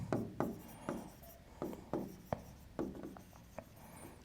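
Pen strokes scratch across paper in short, separate bursts during a handwritten real analysis lesson, each stroke a close, dry rasp with brief pauses between, no voices.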